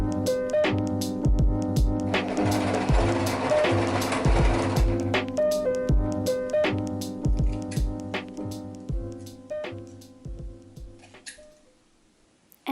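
Domestic sewing machine stitching along the long sides of elastic headband fabric, a close rapid mechanical chatter of needle strokes in bursts that slows and stops near the end, with no talking.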